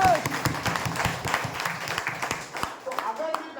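An audience at a business talk breaks into applause, a dense patter of many hands clapping with sharper nearby claps, fading slightly toward the end while a few voices murmur underneath.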